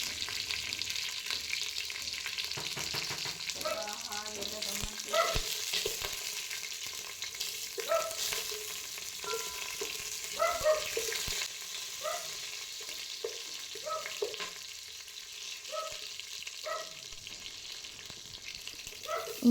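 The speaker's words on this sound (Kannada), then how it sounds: "ಈಗ ಆಯಿಲ್ಗೆ ನಾವು ರೆಡಿ ಮಾಡಿ ಇಟ್ಕೊಂಡಿದ್ದ ಸ್ಪೈಸಸ್, ಚಕ್ಕೆ, ಲವಂಗ, ಏಲಕ್ಕಿ, ಬಿರಿಯಾನಿ ಎಲೆ ಅದನ್ನೆಲ್ಲ ಹಾಕಿ ಚೆನ್ನಾಗಿ ಫ್ರೈ ಮಾಡ್ಕೋಬೇಕು." Whole cinnamon, cloves, cardamom and bay leaf fry in oil for chicken dum biryani, giving a steady, close sizzle throughout with repeated stirring scrapes and no talking.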